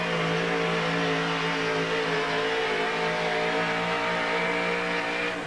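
A 1980 GMC truck called One Trick Pony, powered by a 620 cubic inch aluminum Rodak engine, makes a pulling run at a 1987 Tucson event, its engine holding a loud, steady, strained roar throughout with no break.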